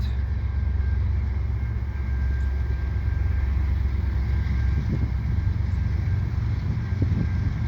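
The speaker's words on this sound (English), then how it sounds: "Sounds like a heavy freight." A heavy CN freight train rolls past near the Lachine Canal bridge in St Henri, a continuous low rumble with a steady tonal hum and occasional faint clanks, loud and unbroken throughout.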